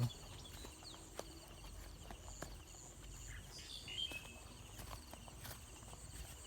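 Frogs call at night near a fishing spot, their repeated clicking croaks sounding at a moderate distance over a quiet outdoor hum, with faint chirps scattered through.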